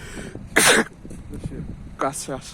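A person sneezes once, loud and close, at a bus and tram station in Benidorm, and is followed by people talking nearby.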